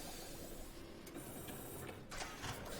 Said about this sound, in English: So now they're printing a pill that will soothe coughs.